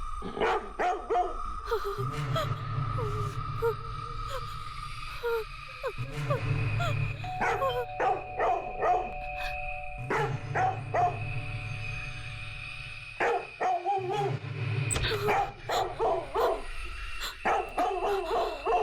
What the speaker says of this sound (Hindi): टेसी का शुरू हो गया भौंकना